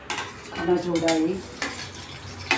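Chopped green chilli and ginger hit hot oil in a cheena chatti pan with a loud, close sizzle, while a utensil stirs and scrapes against the metal.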